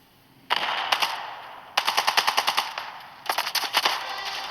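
Automatic weapon fire in the mobile shooter Standoff 2, three bursts of rapid rattling shots, crisp and close, separated by brief pauses.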